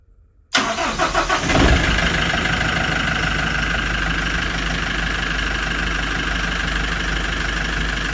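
A Yanmar 4LV250 marine diesel engine cranks briefly, then fires up and runs at a steady, loud, rumbling idle, close by and with no voices.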